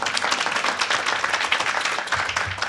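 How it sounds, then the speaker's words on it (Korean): A forum audience welcoming a speaker with applause, a sustained, even crowd clapping with dense overlapping hand claps that holds steady from start to finish. "조용탁 교수님을 큰 박수로 맞아주시기"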